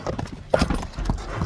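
A horse's hooves clip-clop in a quick, uneven rhythm at close range, with a sharper strike partway through and faint background noise.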